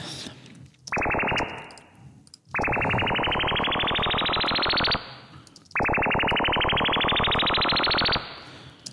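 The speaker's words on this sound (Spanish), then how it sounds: "lo que voy a hacer es añadir un efecto de reverb, el reverb básico de Ableton." A synthesized riser passed through Ableton Live's basic reverb plays three times, each a buzzing stream of rapid pulses climbing in pitch before cutting off into a brief reverb tail, loud and alone.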